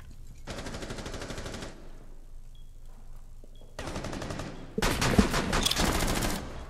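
Automatic gunfire in Rainbow Six Siege team deathmatch, three long rapid bursts with short pauses between, the last one louder and closest.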